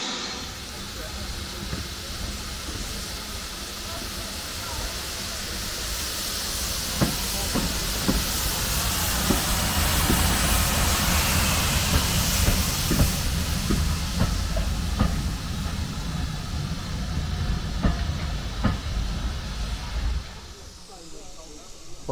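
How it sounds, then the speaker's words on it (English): A steam locomotive at Sheffield Park station on the Bluebell Railway hisses steadily with a broad, roaring rush of steam, punctuated by occasional metallic clanks, continuing for a long stretch before easing off. "Fantastic loco in full steam."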